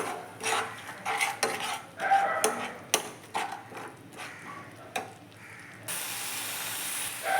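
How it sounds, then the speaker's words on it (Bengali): Spiced egg curry masala with a splash of water sautés in a pan, with repeated scraping and clinking strokes of a spatula over a low hiss that turns steadier near the end. "অল্প জল দিয়েছি, এখন আমি এটাকে অল্প সময় সাঁতলাবো।"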